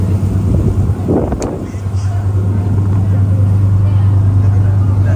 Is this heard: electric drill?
no